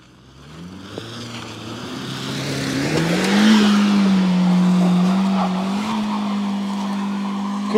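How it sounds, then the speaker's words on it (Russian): An Opel Astra H 1.6 on snow with ESP switched off, one wheel spinning: the engine revs up into a sustained, loud whine and holds high while the car struggles for grip. "сейчас увидим, как поедет Опелёчек без антибукс-системы"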